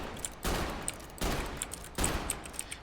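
Flamer weapon in a shooting video game firing through a wooden wall: three sudden roaring bursts of fire, each with a rushing tail and sharp crackling ticks, spaced under a second apart.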